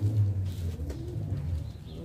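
A young pigeon, a colored homer mixed with a tipplet, makes low, throaty, rolling coos up close that repeat steadily over quiet background, with no talking.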